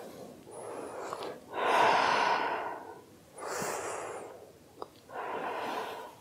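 Slow, deep breaths during a seated yoga spinal twist flowing side to side: three long airy inhale-exhale swells, close and clear, with quiet pauses and a faint click between them.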